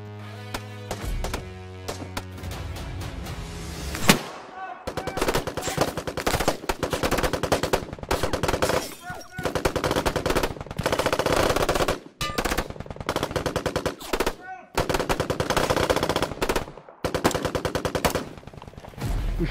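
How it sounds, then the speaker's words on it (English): Rifle fire crackles through a firefight in rapid bursts, with dense clusters of sharp shots broken by brief pauses, loud and close, with no talk. "So, we take cover and return fire."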